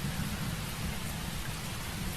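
Steady heavy rain falling with a dense, constant hiss and a low rumbling undertone, no breaks and no voices.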